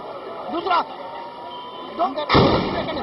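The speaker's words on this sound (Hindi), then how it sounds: "ये दूसरा धमाका हो गया नाज़रीन, दूसरा।" A sharp firecracker bang near a Pakistani politician at a public event, one loud burst at the end following a few muffled thuds, with voices talking around it.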